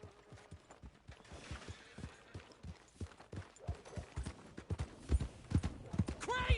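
Horse hooves clip-clop steadily in Red Dead Redemption 2, a quiet, even stream of hoofbeats that grows louder and busier toward the end, with a faint voice talking underneath.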